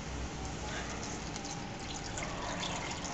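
Half a cup of water pours into a cooking pan as a soft, continuous splashing hiss, steady and close throughout.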